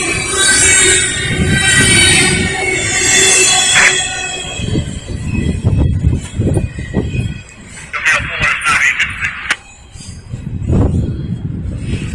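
An eastbound Norfolk Southern freight train rolls past at close range in Lynchburg, Virginia, its wheels squealing and cars rumbling continuously throughout, with voices audible over the passing train.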